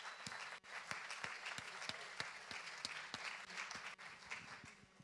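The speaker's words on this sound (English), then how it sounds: "a big round of applause for all the team of this morning" Faint, steady applause for a morning team after a project presentation at a game event, an even wash of clapping with a few distinct claps standing out, lasting the whole stretch with no talk.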